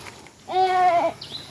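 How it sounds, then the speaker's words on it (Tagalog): A single goat gives one clear, wavering bleat close by, lasting about half a second, with a faint brief sound just after it. "May kambing pa."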